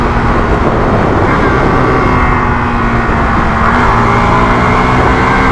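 Hero Xtreme 160R 4V motorcycle cruising at high speed in sixth gear, a steady loud engine drone mixed with heavy wind rush, continuous and unbroken throughout.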